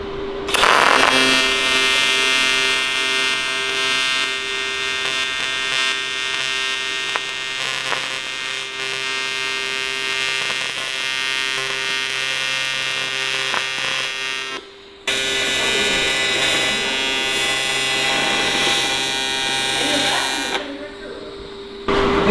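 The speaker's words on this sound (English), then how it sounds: "Get this tacked up here quick before we burn it in." An aluminum welding job on a truck build gives off a loud, steady electric buzz with a strong hum, cutting out briefly near the end.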